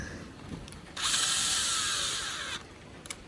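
A power tool with a Torx bit whirs in one steady burst of about a second and a half while removing engine bolts on a Mk5 2.0T engine during a balance shaft delete, with brief clicks before and after.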